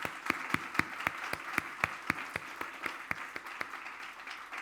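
A church youth congregation claps in unison at a retreat, sharp evenly spaced rhythmic hand claps about four per second, fairly faint in a reverberant hall.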